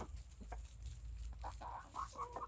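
Backyard chickens and young baby roosters cluck softly, scattered short calls and chirps over a faint steady background hum, quiet and close with no talking.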